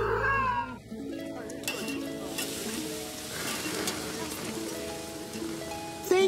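A cartoon cat meows in a string of drawn-out, rising and falling cries, close and clear, over a background of soft noise and brief voice sounds.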